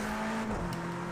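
Time Attack Mitsubishi Evo 6 racing on snow in the game Project Cars 2, its engine holding a steady tone before dropping in pitch at a gear change, brief and moderately loud.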